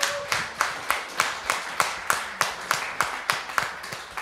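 At a 2025 Bible school graduation, an audience claps in steady unison, about a dozen crisp beats at an even rhythm ringing through the hall, with no voices.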